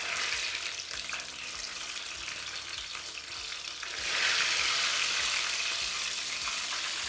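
Potato wedges fry in hot oil with a steady, dense sizzle that grows louder and brighter about halfway through, close by and with no talking.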